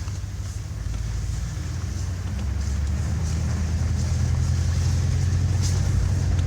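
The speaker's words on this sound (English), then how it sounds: "I'm going to take it for a spin up the road" A Ram pickup truck with Rancho RS9000XL shocks drives along a dirt road, giving a steady low engine and road rumble with wind noise. The sound builds slightly and holds even throughout, with no speech.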